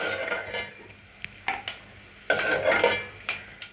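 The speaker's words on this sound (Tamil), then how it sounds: "தேங்காய் நல்லா கோல்டன் ஃப்ரை ஆயிடுச்சு இப்போ இதை நம்ம தனியாக எடுத்து வச்சுப்போம்" Golden-fried coconut is lifted out of a pan of ghee while making moong dal payasam: a metal spoon clinks and scrapes against the pan in several sharp bursts, with a faint sizzle underneath and no talking.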